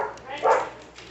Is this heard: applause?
no